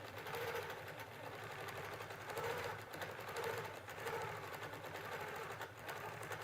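A Q'nique 19 quilting machine stitches steadily, its motor humming with a fast, even needle rhythm that swells and eases slightly in waves; no one speaks over it.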